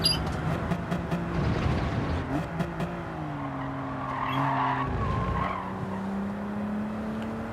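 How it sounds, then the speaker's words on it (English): A BMW Z4 slides through a corner in Gran Turismo 7, tyres skidding and squealing over a steady engine drone that shifts pitch partway through, loud and close throughout. "Big slide actually helps rotate the car, avoid that understeer"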